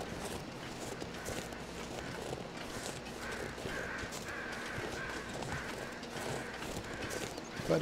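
Crows caw in The Long Dark survival game, scattered calls over a steady outdoor wind bed with faint footstep-like crunching, no talk.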